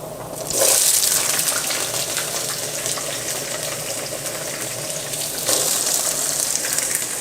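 Sliced and diced red pepper hitting a hot pan with garlic for pasta primavera, a loud sudden hiss that holds steady for several seconds and surges again near the end, close and alone.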